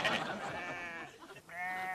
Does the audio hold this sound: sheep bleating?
yes